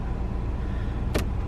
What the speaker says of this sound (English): TPMS on, car's running.